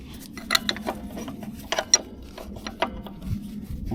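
Brake shoe adjuster on a Mercedes 410D drum brake clicking as it is tightened, a series of sharp, irregular ratchet-like clicks close by over a low mechanical background, with no talking.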